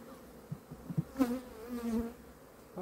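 Bees buzz around a beehive frame, a faint, wavering hum with a few closer passes rising and fading over a quiet background.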